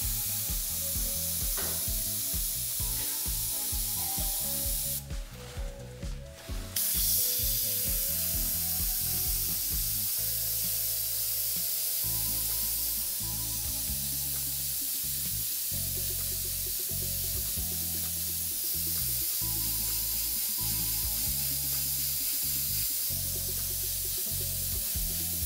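Steady airbrush hiss sprays paint continuously onto dice, with a brief louder burst partway through, over a low background rumble.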